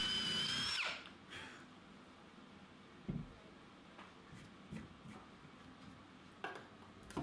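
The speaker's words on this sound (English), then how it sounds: "drilling the holes partly through with a brad point bit" A power drill with a brad point bit whines loudly for about a second, drilling holes partly through bed parts, and stops abruptly, followed by quiet workshop clatter and a few light knocks.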